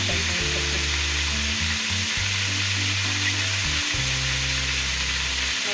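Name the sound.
ginger frying in a pan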